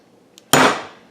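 A single loud, close hammer blow drives a nail into a wooden picture frame, a sharp strike with a short ringing decay, preceded by a faint light tap.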